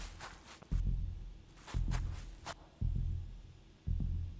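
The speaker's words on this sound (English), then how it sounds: "Why is my heart beating like this?" A low, thudding heartbeat from the Nucleares video game, four slow, evenly spaced beats that are soft and muffled, with no other sound around them.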